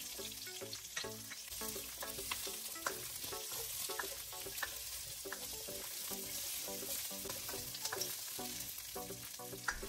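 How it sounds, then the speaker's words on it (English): Onion stir-fried in oil in a wok, a busy, close sizzle broken by repeated clanks and scrapes of a utensil against the metal, continuing steadily with no voices. "Stir fry for about 1 minute and toss in the pepper"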